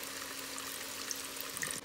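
Hot water poured from a cup into a chicken and egg dish cooking in a pan, a steady close splashing and trickling pour lasting nearly two seconds with a faint sizzle underneath.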